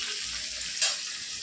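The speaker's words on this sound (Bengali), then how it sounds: "একটু পেঁয়াজটা লাল লাল করে ভেজে নেব হালকা" Onions fry lightly in a pan for a chicken dish, making a steady, soft sizzling hiss close by with one brief flare partway through.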